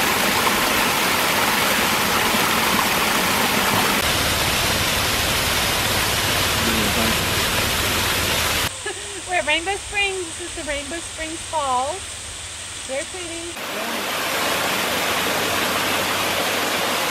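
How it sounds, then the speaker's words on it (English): Waterfall at Rainbow Springs State Park in Florida, a loud, steady rushing roar that fills most of the stretch, broken by a quieter passage where birds call and a voice speaks briefly before the water noise returns. "One of the waterfalls here at Rainbow Springs."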